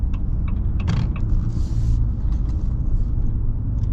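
A 2026 Ram 2500 Black Express Cummins truck pulls away, heard from inside as a low, steady engine and road rumble with a few small creaks and clicks from the cabin.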